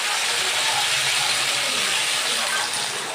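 Water poured into a hot pan of frying drumstick (moringa) pods for a thin katla fish curry gives a loud, steady hissing gush and sizzle that runs unbroken for about three seconds, with no talking.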